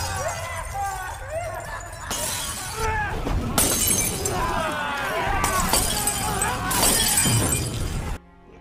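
Glass bottles shattering during a gang brawl in a film, several sharp crashing breaks and tinkling shards over a noisy fight mix, with shouting voices, ending in a sudden cut to quiet.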